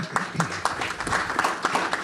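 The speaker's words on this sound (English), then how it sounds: "I think we need to applaud that" Applause from an audience at a live talk event in a New York media center, a steady textured patter of many hands at moderate level, continuing evenly for a couple of seconds.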